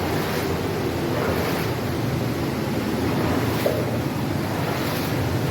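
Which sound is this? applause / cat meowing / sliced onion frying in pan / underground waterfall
underground waterfall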